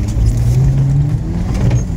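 Turbocharged Chevrolet Niva accelerating off-road, a loud close engine drone with a steady low hum heard from inside the car for a couple of seconds.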